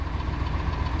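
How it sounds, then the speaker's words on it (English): A 1999 GMC Suburban 2500 engine idles with a steady, rapid ticking from a noisy lifter riding over the low mechanical rumble, close and continuous, with no one speaking. "that's a lifter noise,"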